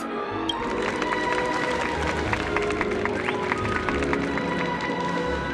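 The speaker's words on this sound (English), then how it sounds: "We invite you to express your warmest applause and deepest appreciation for OT Alfalfa, head of the Alfalfa family," A large virtual crowd applauds and cheers at a festival ceremony in the video game Honkai: Star Rail, a dense, steady wash of clapping layered over background music for several seconds.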